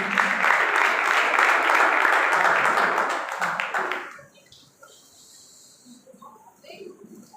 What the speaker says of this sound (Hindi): पास्टर साहब को जोरदार तालियों में वेलकम करते हैं